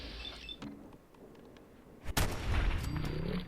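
A single loud gunshot in Fallout 4 survival mode cracks after a quiet stretch of faint game noises, followed by a sustained rumbling din.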